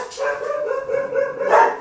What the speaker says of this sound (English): Dogs do not approve, apparently.